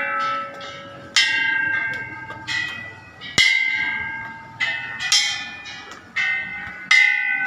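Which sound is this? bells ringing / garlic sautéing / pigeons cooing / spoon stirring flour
bells ringing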